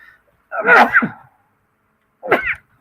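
A single loud, close cough bursts out, followed after a pause by a shorter second cough, with silence around them.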